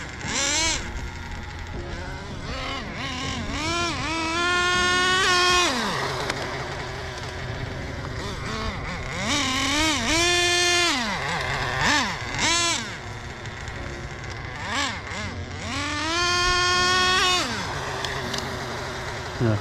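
A Traxxas Nitro 4tec RC car's small nitro engine screams in repeated rising revs and drops as it accelerates through gears, loud and close, with brief easing between bursts.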